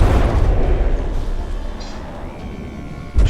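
Naval warship guns firing in a dreadnought video game tournament, a heavy booming salvo that rumbles and fades, then another sharp blast at the end.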